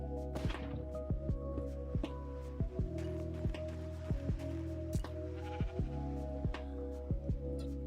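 Sheep in Minecraft bleat repeatedly against a steady droning game soundtrack, with regular soft thumping pulses running throughout.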